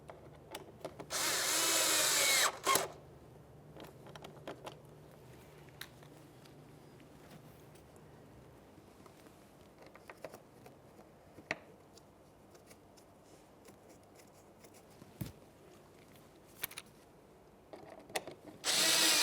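Power drill driving the two side mounting screws of a front bumper cover on a 2003-2007 Honda Accord: a loud buzzing burst near the start, then quieter scattered clicks and handling noises, with a short final whir at the end.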